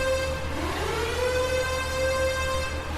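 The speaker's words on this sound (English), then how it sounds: "A siren rings every hour for no one." A siren in an empty automated industrial zone holds a steady, sustained wail that rises slightly in pitch, heard alone over a low hum.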